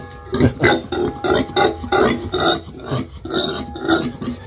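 A sow grunts repeatedly up close, a run of deep, rough, pulsing grunts in an irregular rhythm with short gaps between them.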